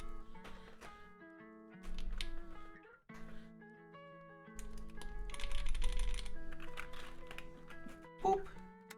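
Keystrokes on a Mode80 mechanical keyboard fitted with Marshmallow keycaps, bursts of quick taps at close range, mixed with music and occasional talking.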